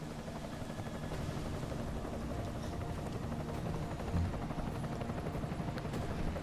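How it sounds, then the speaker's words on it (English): An enemy helicopter in Deus Ex: Mankind Divided drones with a dense, continuous rotor wash, loud and steady throughout with no voices. "Enemy helo sighted."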